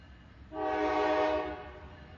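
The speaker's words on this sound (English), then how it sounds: "sound of a train" A train horn from a film trailer about the women of Three Mile Island sounds as one loud, sustained, harmonic blast of about a second, rising in and fading out against quiet background hiss.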